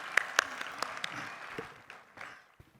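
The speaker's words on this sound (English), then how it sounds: "And also, can we give a round of applause to the program directors?" Audience at a school's Class 5 annual day celebration breaks into applause, a steady wash of clapping with a few sharper nearby claps standing out, fading over about three seconds.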